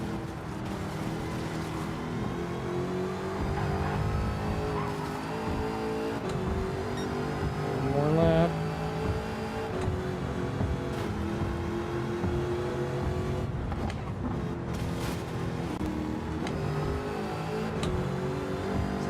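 Race car in Gran Turismo 7 cornering and accelerating in an online lobby, engine revving up and down through gear changes in a continuous, moderately loud whine, with a brief sharper surge midway.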